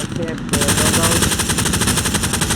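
Machine gun fire in the Hell Let Loose video game, a loud sustained burst of rapid, evenly spaced shots close by, starting after a brief moment of softer background noise.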